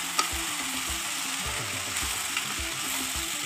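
White brinjal pieces fry in hot oil with moong dal in a pan, a steady sizzle under repeated scraping stirs of a spatula at an uneven rhythm.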